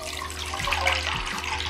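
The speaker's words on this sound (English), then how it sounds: "So I'm going to pour this 4 cups of Korean ultimate stock into a pot." Korean stock, four cups of it, poured from a container into a wok at home, giving a steady close splashing and gurgling stream of liquid that runs the whole short moment with no talk.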